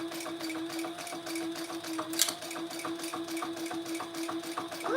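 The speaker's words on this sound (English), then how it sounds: "let's just close off our turning hole by top stitching." Sewing machine top stitching to close a turning hole, a continuous even whirr of needle strokes throughout, close and steady, with a brief sharp click midway.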